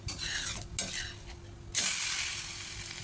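Rava dosa sizzles on a griddle with butter and a little oil, a close hiss broken by short scraping and clinking strokes, then a louder, steady sizzle swelling up for the last second or so.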